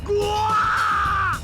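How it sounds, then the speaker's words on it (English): A girl in the video game Never 7 screams loudly, a single sustained high-pitched shriek rising and lasting over a second, close and intense. "Okiko screams in an extremely loud voice."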